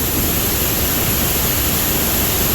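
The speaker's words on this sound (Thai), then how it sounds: "อันนี้ก็จะเป็น น้ำตกจากสายลำห้วยตรวจนะครับ" Water from a forest stream drops over a waterfall with a steady, loud, full rush.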